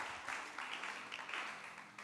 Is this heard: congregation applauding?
yes